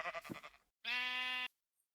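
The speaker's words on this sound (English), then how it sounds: "and meet our sheep." A sheep in Minecraft bleats once, a clear sustained nasal cry, loud and close, after a short rustle of other game sounds.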